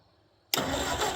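A 69-year-old tractor engine catches and fires after quiet, jumping straight into a loud, steady running roar close by.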